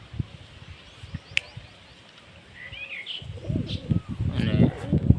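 Pigeons, including a newly colored bird, coo softly with a brief wing flutter, then a louder burst of cooing and rustling near the end, close and fairly quiet.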